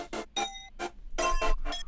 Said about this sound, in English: when I combine it with the normal bell